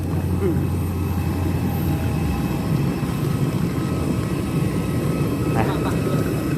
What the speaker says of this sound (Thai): เครื่องบินนายกมาเนาะ พี่เครื่องบินนายก